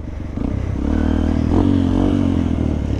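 A dirt bike on an extreme off-road trail, its engine loud and close with a rising, rough revving drone and some clatter over a steady low rumble, with no talk.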